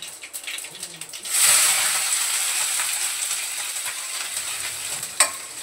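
Garlic and green chilies sizzle in hot oil with mustard seeds and cumin, a sudden loud hiss that settles into a steady, close frying crackle with a sharp pop near the end.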